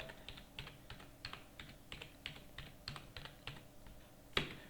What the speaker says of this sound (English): So type the account number.